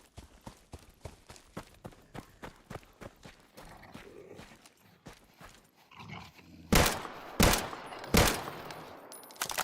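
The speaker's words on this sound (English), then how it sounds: "Three AK shots is kind of crazy out of you." AK rifle gunshots in the survival shooter Deadside, starting with quick rhythmic thuds, then three loud, sharp, closely spaced cracks near the end.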